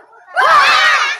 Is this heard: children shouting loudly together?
yes